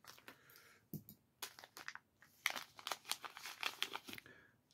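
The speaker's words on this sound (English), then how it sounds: "Everything is heat sealed. So, see if we can go ahead and cut this out of here." Heat-sealed plastic packaging being cut open, with crinkling, crackling plastic and small snips in quick irregular bursts, close and fairly faint.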